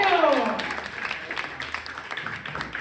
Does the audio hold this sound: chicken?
no